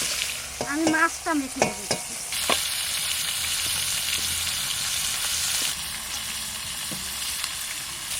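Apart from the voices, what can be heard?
hilsa fish head frying in a pan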